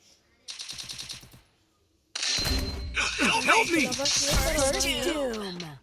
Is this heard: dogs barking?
no